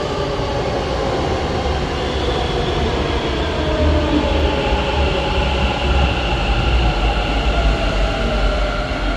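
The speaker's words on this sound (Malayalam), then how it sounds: "അപ്പോൾ മെട്രോ വന്ന്" Loud, steady rumble and roar of a metro train pulling in, a continuous rolling drone with a faint high whine, growing slightly louder midway.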